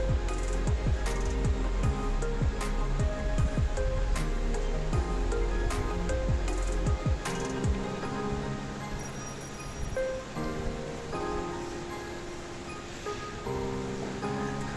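Saraswati river water rushing near Mana village, a broad steady roar of flowing water throughout, with some brief clattering and handling noises early on and no talk.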